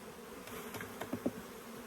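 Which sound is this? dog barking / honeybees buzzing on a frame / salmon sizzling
honeybees buzzing on a frame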